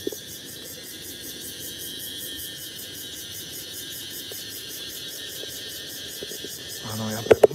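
A steady, pulsing cicada chorus rings out at the Khao Matsee viewpoint in Chumphon, Thailand, continuous and moderately loud, with a few brief handling knocks and bumps near the end.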